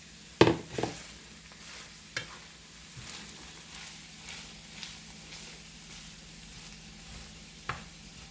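Diced carrots and parsley cook in a pan for shepherd's pie, a soft steady sizzle under occasional clanks and scrapes of stirring, fairly quiet and close.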